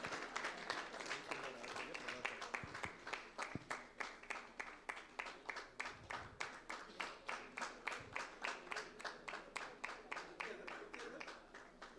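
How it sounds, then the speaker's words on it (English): A chapter audience at a Bangalore business networking event claps in a steady, fairly faint round of applause that carries on for about twelve seconds, the individual claps thinning into a sparser, more rhythmic pattern toward the end. "It would help if we could clap."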